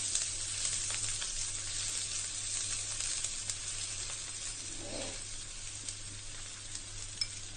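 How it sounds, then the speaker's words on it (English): Finely chopped onions sautéing in hot oil in a pan for pizza sauce, a steady close sizzle and crackle with a low hum underneath, the frying hiss continuous throughout and no one speaking. "To this, I am going to add finely chopped onions. Saute it for a minute or so."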